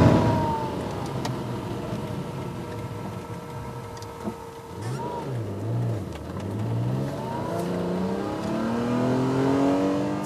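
A BMW M1 sports car driving on a country road, its engine droning and rising in pitch as it accelerates through the gears, with a steady rush of road and wind noise throughout.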